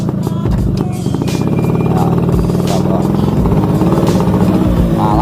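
An old motorcycle engine runs steadily up close, a continuous mid-pitched rumble with harmonic drone and some clatter, a voice talking over it throughout.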